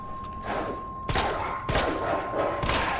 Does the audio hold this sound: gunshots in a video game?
yes